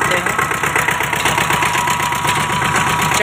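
An Eicher two-cylinder diesel engine drives a sugarcane crusher, giving a loud, close, steady chugging throb with a rapid, even knocking rhythm and no break.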